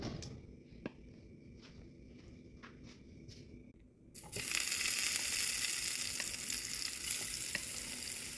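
Spam hits a hot non-stick pan with a little oil and bursts into a loud, steady sizzle that fills the rest of the scene, after a few seconds of quieter kitchen clatter and faint taps nearby.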